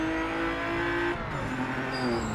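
GT race car engine in the Project Motor Racing video game, a loud steady engine tone holding high revs, shifting down briefly midway, then climbing again with faint tire squeal.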